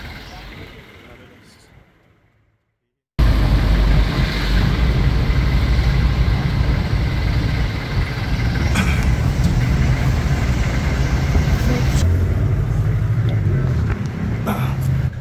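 Vehicle pulling up at a roadside near the Lucena bus terminal in the Philippines, a steady loud engine and traffic rumble that cuts in abruptly after a quiet opening and holds throughout, with faint voices in the background.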